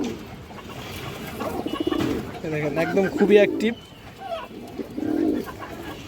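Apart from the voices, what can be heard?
red chulli female pigeon cooing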